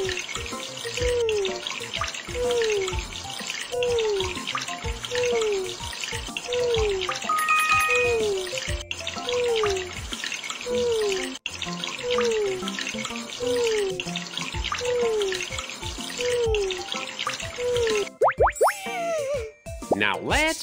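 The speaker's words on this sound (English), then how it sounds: "Let's shower him." A steady, running shower-like water sound on a puppy in a pet-care video game continues under bouncy looping background music with repeated sliding tones, ending in a quick sparkly flourish.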